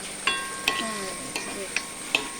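Food sautés in a pan with a steady background sizzle, punctuated by five evenly spaced sharp clinks of a spoon stirring against the pan.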